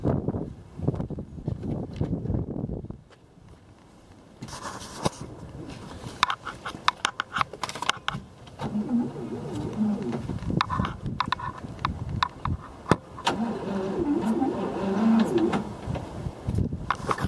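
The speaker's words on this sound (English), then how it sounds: "The car is actually turning over after sitting since 1975." A 1956 Oldsmobile engine, unused since 1975, cranks with a rapid, rhythmic chugging, pauses, then cranks again and catches into a rough, uneven run.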